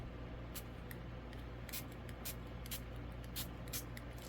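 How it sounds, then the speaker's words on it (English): Repeated short bursts of water misted from a spray bottle onto paper, a quick irregular series of hissing puffs over a low steady background hum. "I'm spraying a lot of water."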